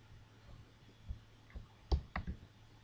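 Quiet clicks of a computer mouse in a PC settings window, a few soft taps scattered over a faint background hum, with the loudest pair close together near the end.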